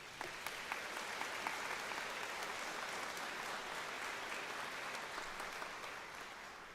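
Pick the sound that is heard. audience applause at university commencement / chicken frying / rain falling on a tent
audience applause at university commencement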